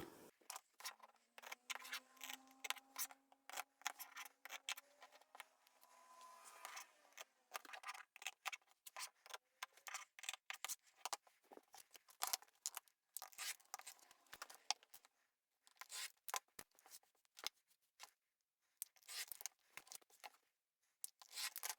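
Scissors cut out fabric pieces for a zippered bag, making a long run of rapid close crunching snips in bursts with brief pauses, and a faint rising whine near the start.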